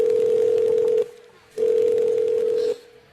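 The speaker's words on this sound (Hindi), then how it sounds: "मैं अभी अपने बेटे को फोन करती हूँ" A phone call to a son producing a ringback tone: two long steady tones separated by a short pause, loud and clear with no talking.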